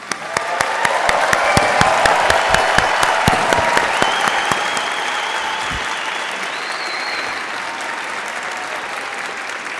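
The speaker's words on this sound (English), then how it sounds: "So let us give your loved ones a rousing round of applause" Loud, sustained applause from a law school commencement audience, dense clapping that swells early and then slowly thins while staying steady, with some cheering in the crowd.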